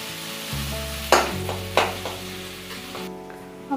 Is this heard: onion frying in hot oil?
yes